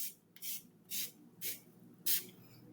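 A handheld bottle of love spray gives four short, crisp hissing bursts spaced about half a second apart, close and fairly soft in an otherwise quiet room.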